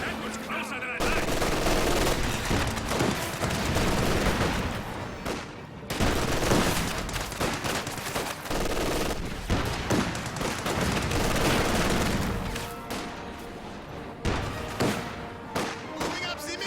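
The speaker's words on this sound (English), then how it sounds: "Contact! MG42!" MG42 machine gun in a World War II strategy game rattles in long, dense, close bursts with short gaps, mixed with other gunfire and booms of battle throughout.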